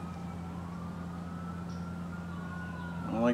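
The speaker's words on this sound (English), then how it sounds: "I don't like the sound of those sirens." A wailing emergency vehicle siren sweeps slowly up and down in the distance over a steady low hum, with a brief rising warble at the end.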